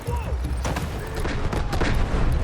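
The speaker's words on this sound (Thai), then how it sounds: "ชิบหายระเบิด" Explosions and gunfire from the video game Delta Force play as rapid, dense bursts of sharp cracks and booms. The battle noise is close and continuous throughout the short stretch.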